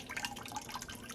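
Liquid ceramic glaze drips and trickles from a planter as it is poured out, soft irregular wet patters, close and faint.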